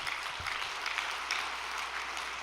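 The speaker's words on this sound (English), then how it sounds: "So why don't we give a big round of applause to Master Fabio?" A steady round of applause from a church congregation for Master Fabio, continuous even clapping heard from a distance and fairly faint throughout.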